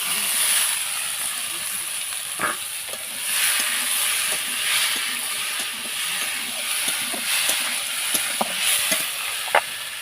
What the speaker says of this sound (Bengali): এবার আমরা কচুরলতিগুলোকে দিয়ে দেবো।